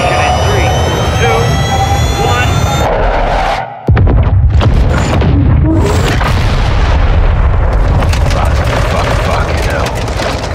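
A missile strikes and destroys its target in a video game opening: after a sudden instant of near-silence, a loud broadband blast erupts, followed by a sustained roaring rumble with crackling debris and engine-like noise.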